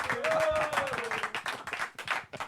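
A studio audience on a sports chat show claps and applauds as a football guest who has played in the Championship walks on, with dense, steady clapping through the whole stretch and a rising whistle-like tone early on.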